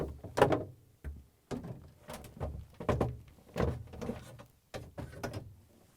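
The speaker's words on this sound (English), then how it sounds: "Remove the shelves on the right side." Plastic refrigerator shelves are lifted out one after another, a series of close hollow knocks, clacks and slides at an irregular pace, with no talk.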